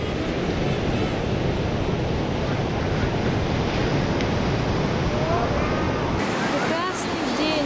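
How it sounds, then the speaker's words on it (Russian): Ocean surf at Baker Beach in San Francisco rolls in as a continuous loud wash with wind buffeting the microphone, while voices talk briefly over it near the end. "Welcome to the ocean."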